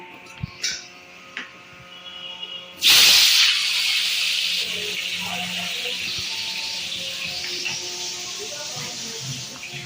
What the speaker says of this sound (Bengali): আলুটার মধ্যে দেবো আমি নুন আর হলুদ দিয়ে আলুটাকে ভালো করে ভেজে নেব